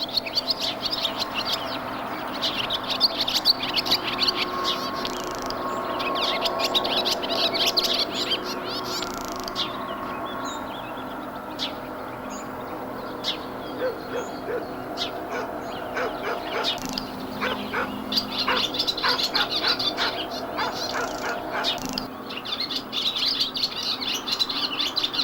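Male barn swallows sing territorial song from their perches around a farm, a continuous stream of twittering chirps with other birds calling alongside, steady and fairly close throughout.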